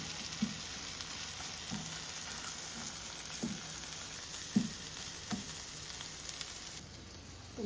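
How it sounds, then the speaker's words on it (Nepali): Maggi noodles with egg frying in a pan, a steady close sizzle broken by periodic scraping stirs and spatula knocks. "म अन्डा हाल्दैछु है अन्डा पनि हाल्नुपर्छ म्यागीलाई फ्राई गरेको म्यागी"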